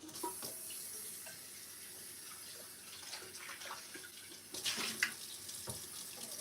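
Water runs from a kitchen tap in a steady, moderate rush to measure out cups of water, with a brief louder splash midway, and no talking.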